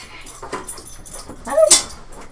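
An excited pet dog gives short whimpers and yips close by, with a brief sharper whine near the end, over a faint background hum from a game being recorded.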